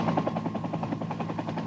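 A rescue helicopter over the flooding Guadalupe River near San Antonio, its rotor thumping in a fast, steady beat at moderate distance, with no voices.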